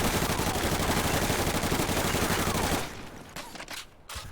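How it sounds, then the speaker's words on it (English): A Type 104 submachine gun fires a sustained rapid burst in Call of Duty: Future Warfare, with dense continuous reports that stop abruptly, followed by a few short trailing shots and clicks. "the first submachine gun is the Type 104"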